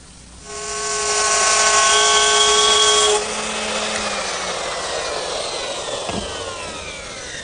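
Router with a 3/8 inch spiral bit cutting a groove in wooden rails, a steady high whine that spins up, cuts loudly for a few seconds, then drops to a lower steady drone, close and without speech.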